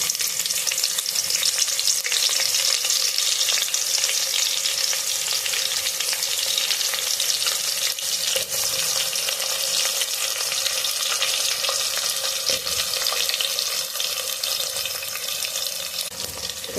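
Onions frying in spiced oil for spicy chicken, a loud, steady close-up sizzle with crackling and occasional stirring scrapes throughout.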